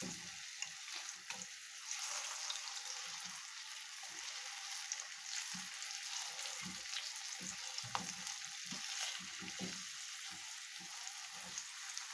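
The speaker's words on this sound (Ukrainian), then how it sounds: "накладаємо другу партію і смажимо до готовності, щоб підрумянилися з обох сторін наші смачні сирники" Steady frying sizzle of cheese pancakes (syrniki) in a pan, a continuous crackling hiss with occasional soft clinks and pops, close and moderately loud.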